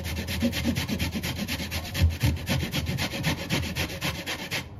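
Food being grated by hand against a grater in fast, steady rasping strokes, repeated rhythmically and close, with no talking.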